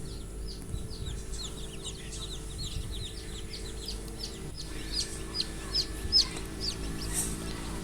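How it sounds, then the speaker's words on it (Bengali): Newly hatched native chicken chicks peep rapidly and repeatedly inside an incubator, many high chirps overlapping above a steady machine hum. "এগুলো একদম অরিজিনাল দেশি মুরগির বাচ্চা।"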